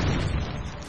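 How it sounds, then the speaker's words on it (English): Cannons fire in the mobile strategy game Castle Clash, a dense booming blast that fills the moment and tails off quickly, loud and up close with no talk over it. "We've got 2 cannons going off."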